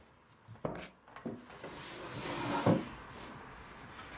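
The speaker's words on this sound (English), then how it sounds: "set my drawer box on there." A wooden drawer box set down onto scrap wood pieces inside a cabinet: a few soft knocks and thumps followed by a brief scraping slide, close and quiet, with no talking.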